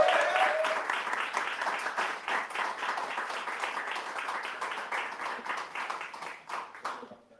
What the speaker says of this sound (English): please give her a round of applause in your ears